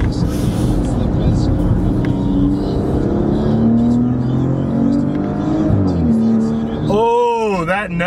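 A 404-horsepower Italian Maserati Ghibli engine accelerates hard through the gears, its rising note climbing and dropping at a shift, loud and close from start to finish.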